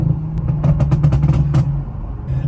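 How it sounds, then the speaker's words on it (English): A tuned car running an MHD map with overrun pop-and-bang settings fires a rapid cluster of sharp exhaust crackles and bangs over a low engine drone, followed by a quieter pop near the end. "I have overrun and pop and bang maps on different sections."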